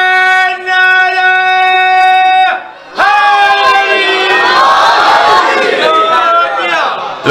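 At an 11 Rajab Jashan religious gathering, a large crowd loudly chants religious slogans in unison. A sustained sung call leads into massed shouted responses, close and overlapping voices, with a brief pause between the phrases.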